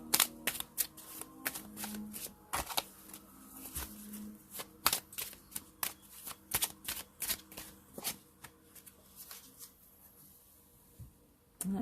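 Tarot cards are shuffled by hand at close range, a long run of crisp riffling flutters and sharp card snaps at an uneven rhythm, with a faint voice murmuring now and then beneath.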